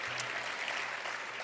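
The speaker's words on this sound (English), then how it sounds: "Another round of applause for him as he takes his pictures." Audience applause at an education awards luncheon as an honoree poses for photos, a brief even patter of many hands clapping at moderate volume.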